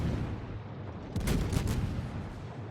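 Naval gunfire in World of Warships with an Atlanta cruiser in battle: a short cluster of booming shots bursts out over a constant low rumble of battle noise, fairly distant and heavy.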